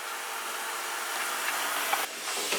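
A Black and Decker FSMH13E5 steam mop giving off a continuous, fairly quiet hiss of steam with a few small clicks, with no talking.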